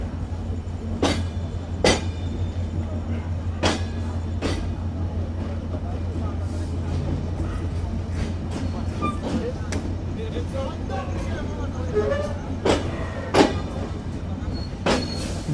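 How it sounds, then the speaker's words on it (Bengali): A train pulls away from Jessore railway junction, a steady low rumble under rhythmic wheel clacks and occasional sharp squeals over the rails, continuous and fairly close. "আমরা যশোর রেলওয়ে জাংশনে নির্ধারিত 4 মিনিটের যাত্রা বিরতি শেষে এখন চলতে শুরু করলাম"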